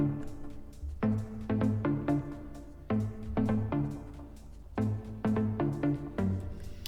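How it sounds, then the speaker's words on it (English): Tech house track with a synth layered on top, following the same notes as the bass, in a steady pulsing pattern of bright stabs over a low groove, played alone without talk. "Next I decided to add a bit of a synth which sounded like this"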